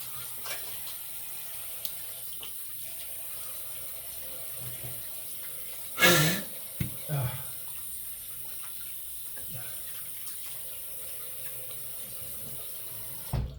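Tap water runs steadily into a sink as a Merkur 34C safety razor head is rinsed, a soft continuous hiss broken by a few louder splashes and clinks partway through.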